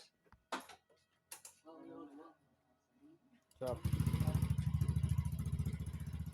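A motorcycle engine with a very bassy aftermarket exhaust starts and settles into a loud, deep, throbbing rumble with fast steady pulses, after a few clicks and a brief mechanical whir.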